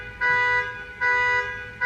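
A car alarm sounds in steady repeating electronic bursts, loud and close, with short dips between blasts and no talk over it.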